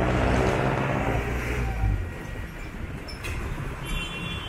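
Loud rumbling street traffic in Manila, with rattling jeepney engines and clattering metal, a heavy rough drone passing close by, no voices.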